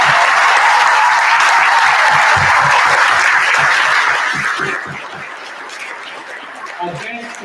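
A crowd at the official opening ceremony of the British School of Nanjing's new campus gives the music staff a loud, dense round of applause that holds steady for about five seconds, then thins and fades.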